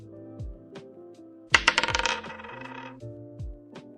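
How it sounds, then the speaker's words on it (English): Single die rolled in a tabletop game, landing with a quick clattering burst of small bounces before settling, close and fairly quiet over a faint background. "So let's roll a die here."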